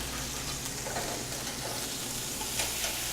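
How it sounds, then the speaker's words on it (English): Lobster sizzling in a frying pan in a Havana-style restaurant kitchen in Houston, a steady close hiss and crackle with faint stirring and no talking. "You just got that simply sizzling in the pan."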